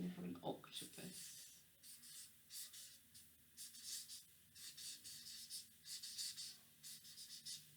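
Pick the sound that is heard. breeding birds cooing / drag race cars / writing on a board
writing on a board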